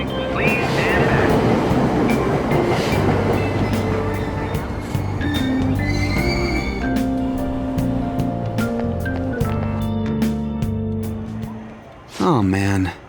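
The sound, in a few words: subway train doors closing, video game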